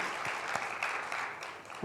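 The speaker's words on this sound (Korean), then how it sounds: "우리 하나님께 영광의 박수를 드리겠습니다" A church congregation claps together in a short burst of applause that fades near the end. A voice is heard briefly.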